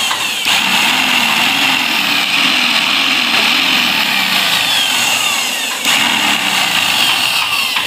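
An IKS jackhammer running on a test after repair, a loud, continuous high-pitched motor whine with a steady buzzing drone and a brief dip near the end, heard close up with no talking.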